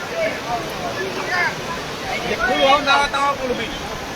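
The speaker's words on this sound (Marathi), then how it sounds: "पाहू शकता की पाण्याचा प्रवाह कशा" Floodwater rushes through a river at Pimpalner in Beed, where the bridge lies submerged. The steady roar and surge stays loud throughout, with voices murmuring faintly under it.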